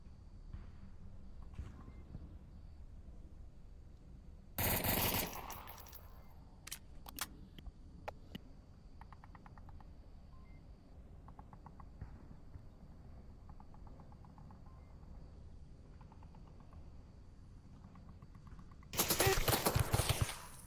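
Distant gunshots in the VR shooter Onward during a competitive match, two short loud broadband bursts, one near the middle and one at the end, separated by quiet ambient game sound with a few faint clicks.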